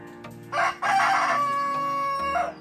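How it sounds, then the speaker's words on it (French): A rooster crows once, loud and close, a drawn-out strained call after a short opening note. "Une poule."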